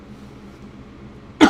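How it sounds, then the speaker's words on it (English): A single sharp, loud cough bursts out at the very end after a stretch of quiet, low background rumble. "That really did make me cough."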